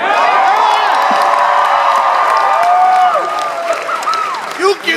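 A large live audience of about 2,800 at a Walking Dead cast and creators evening in Milwaukee claps and cheers loudly, a dense sustained roar with whoops that fades a little toward the end.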